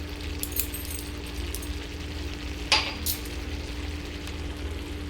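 Banana stem curry with bori, ghee and garam masala stirred in a pan, a low steady sizzle with a few sharp metallic clinks and scrapes of the spoon.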